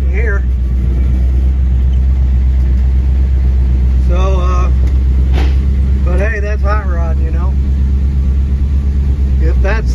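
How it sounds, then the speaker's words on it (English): A Chevy cab-over van conversion engine idles with a steady deep low rumble thought to come from the bottom of the engine, loud and continuous while someone talks over it in short bursts. "it sounds like it's more in the bottom of the engine."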